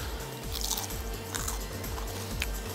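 Crispy prawn heads being crunched up close, with a quick run of crisp bites and chewing and no voices.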